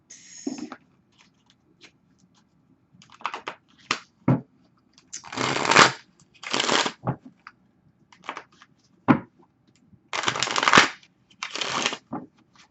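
A deck of tarot cards being shuffled in repeated bursts, crisp riffling and flicking clusters separated by short pauses, close and clear with no talking.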